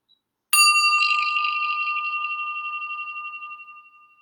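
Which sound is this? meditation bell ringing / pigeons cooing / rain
meditation bell ringing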